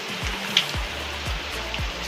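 Heavy rain pours steadily onto surfaces in a rural home setting, a dense continuous wash with low thuds recurring roughly every half second underneath, moderately loud and close, with no talk.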